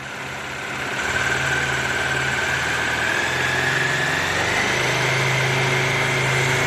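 A cold Bajaj Dominar 400 motorcycle engine idles and then picks up slightly under a light throttle, a steady close mechanical hum holding a raised tone.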